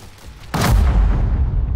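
Gunfire in The Hong Kong Massacre video game: after a quiet start, one sudden loud, close blast lands and its heavy rumbling decay continues to the end, with no voices.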